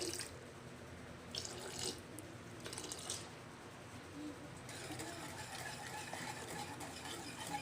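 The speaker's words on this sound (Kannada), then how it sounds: "ಇವಾಗ ದಾಲ್ಗೆ ನಿಮಗೆ ಎಷ್ಟು ನೀರು ಬೇಕೋ ಅಷ್ಟು ಹಾಕ್ಕೊಳ್ಳಿ" Water is poured into mashed dal made with drumstick leaves, a steady splashing, running pour that fills the whole stretch at close range with no clear talk.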